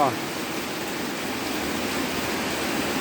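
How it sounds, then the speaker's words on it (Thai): Steady rain falling outdoors over a rural Thai farm field, a continuous even hiss throughout with a brief voice at the very start. "ตอนนี้ฝนตกแล้วครับ"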